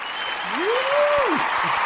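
A burst of steady applause and clapping plays briefly on its own, joined by a gliding whistle-like tone that rises and falls.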